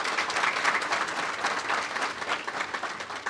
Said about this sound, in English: Would you please put your hands together for our diamond sponsors today?